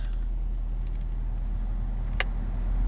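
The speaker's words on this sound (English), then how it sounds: "You can hear the compressor kick right in." A steady low engine hum from a 2012 Nissan Altima 2.5 S coupe, with a brief click and whoosh as the air conditioning compressor engages, close by, no talk.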